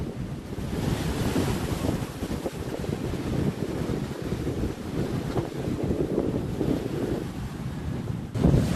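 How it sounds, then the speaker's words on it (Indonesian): High surf up to five meters and strong wind pound the Merak ferry harbor, a continuous loud roar of crashing waves with heavy gusting wind buffeting the microphone throughout. "Gelombang tinggi hingga 5 meter terus menghantam pelabuhan"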